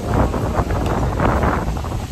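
Strong gusting wind storm sweeping across a lake, a loud steady roar with surging gusts and broadband buffeting on the microphone, no speech heard.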